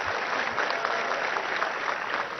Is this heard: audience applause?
yes